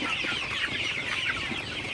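A dense chorus of many Sonali hybrid chickens clucking and murmuring together, close and continuous, with no pauses.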